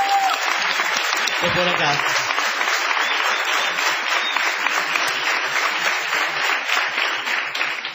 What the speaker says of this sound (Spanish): Vamos a prolongar la ovación para honrar a Patricio Barton